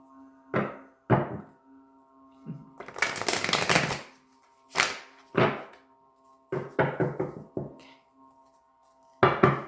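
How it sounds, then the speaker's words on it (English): Tarot cards being shuffled in several short riffling bursts with pauses between, close and crisp, with a faint steady hum underneath. "Okay, one more shuffle."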